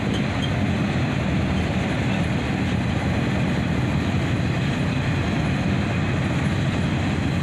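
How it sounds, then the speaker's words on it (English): A southbound Norfolk Southern mixed manifest freight train, led by an SD70ACe and a Dash 9 locomotive, rolls past close by in a loud, steady rumble of wheels and cars, with no voices. "A southbound Norfolk Southern mixed manifest, led by an SD70 Ace and a Dash 9."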